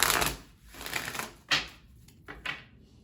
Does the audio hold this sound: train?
no